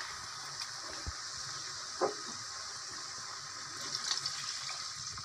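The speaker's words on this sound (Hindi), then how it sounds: "दो गिलास पानी डालेंगे।" Water pours steadily into a cooking pot of chana dal pulao, two glasses' worth, with a soft continuous rush and gurgle, fairly quiet, no voices.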